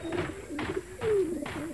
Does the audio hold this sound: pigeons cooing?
yes